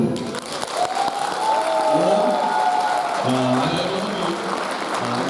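Parents at a children's kindergarten event clapping in steady applause that builds and holds, with a host's voice and some music over it.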